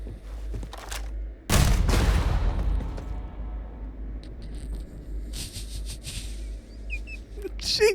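Gunfire in the Starfield game: a loud burst of shots breaks out after a quiet moment and decays into a rumbling tail, followed by scattered smaller impacts and a sharp crack near the end.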